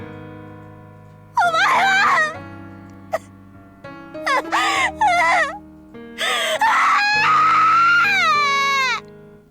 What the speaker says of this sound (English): Oh, I hate hearing people cry.